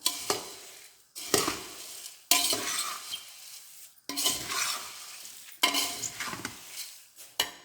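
Kara pori with salt and chilli is stirred in a pan, producing five or six loud, close bursts of rustling, scraping strokes separated by brief pauses, with no speech.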